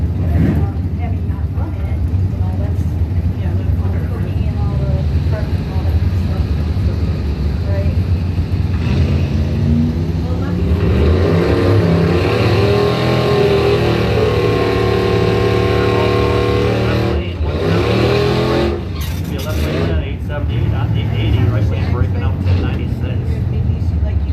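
Cadillac CTS drag car at a bracket drag-racing event, a loud, rumbling engine that swells into a rising roar at launch, with a commentator talking over it throughout.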